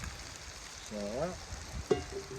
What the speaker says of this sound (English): this is frying up pretty good. And I'll add my potatoes in now.